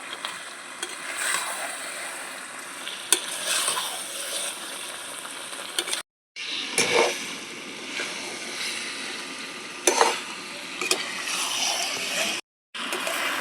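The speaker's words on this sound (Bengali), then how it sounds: "দেখুন মাংসটা খুব সুন্দর করে কষিয়ে নিয়েছি এই দেখুন মাংস থেকে তেল ছেড়ে দিয়েছে" Chicken pieces frying and being stirred in oil in a pan, a steady close sizzle with scraping stirs and two brief pauses.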